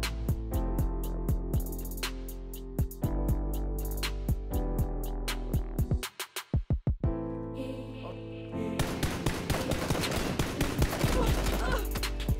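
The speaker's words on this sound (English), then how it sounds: "the M416 fires at 700 rounds per minute" Automatic fire from an M416 assault rifle in the PUBG video game, rapid evenly spaced shots in bursts that repeat throughout, loud and close, with a brief quieter gap of separated shots before a dense roar of continuous fire.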